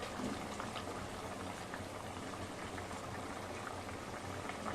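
Chicken curry bubbling steadily over a high flame, a continuous close simmering and boiling texture with soft irregular stirring scrapes, no voices.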